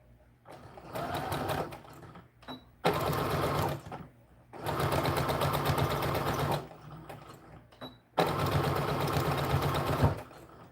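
Sewing machine stitching an American Girl doll skirt with back-stitching, three loud bursts of rapid motor whir separated by short pauses with small clicks.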